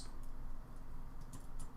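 Quick keystrokes on a computer keyboard while searching in an online game, faint light clicks over a steady background hum, close by with no talk.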